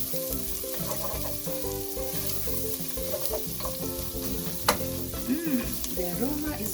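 Ginger and garlic paste sizzles and fries steadily in a hot pan, with a continuous close hiss and a few stirring scrapes. Tonal background music plays underneath.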